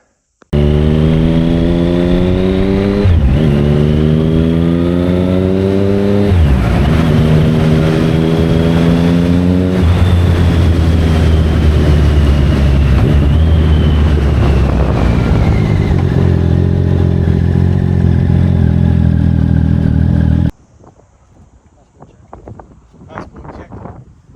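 A loaded Triumph Speed Triple motorcycle accelerating on the road, its engine rising in pitch through several gear changes with heavy wind rush, loud and continuous until it abruptly drops to faint background noise.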